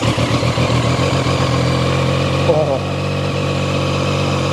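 A Zontes 703RR triple-cylinder sports motorcycle idles loudly and close by, its steady three-cylinder throb holding even with a slight dip partway through, and a voice gives a brief exclamation over it.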